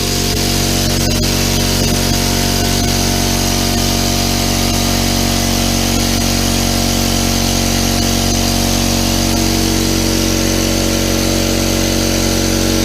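A Harbor Freight air compressor runs continuously while filling its tank near 50 PSI, a loud, steady motor drone with a constant pump hum and no pauses.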